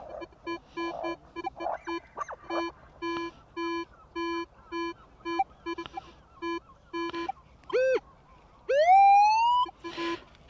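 A Minelab metal detector on a beach at Benllech, Anglesey, emits a rapid series of short, evenly spaced beeps, followed by a few louder warbling tones that swoop upward.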